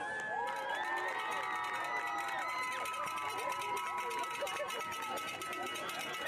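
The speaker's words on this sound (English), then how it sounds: "A round of applause for Carolina De Los Santos" A crowd cheers and shouts steadily at a girls' high school soccer senior night, the noise holding loud and constant throughout, with scattered voices and whistles rising above it.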